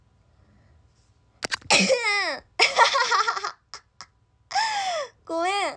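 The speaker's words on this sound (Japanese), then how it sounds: "くしゃみしちゃった。" A woman's sharp sneeze bursts out close to the mic, followed by her laughing and speaking briefly, with a few short squeaky outbursts in between in an otherwise quiet indoor setting.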